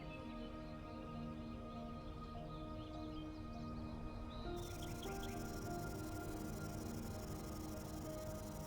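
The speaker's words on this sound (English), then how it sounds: "A chorus of acorn woodpeckers can make a forest sound alive with chatter." Acorn woodpecker calls and chattering notes rise over a steady background of insect and cricket trills in an Arizona forest, fairly faint and distant, with no talking.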